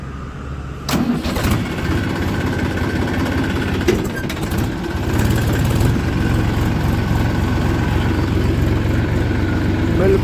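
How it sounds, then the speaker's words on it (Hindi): A tractor engine cranks and fires with a sudden burst, then settles into a steady, rumbling idle that continues close by, with a few clanks mixed in and brief talk over it. "अब ट्रैक्टर को स्टार्ट कर लेते हैं।"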